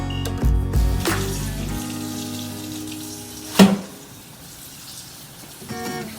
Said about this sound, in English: we're gonna run some cold water on that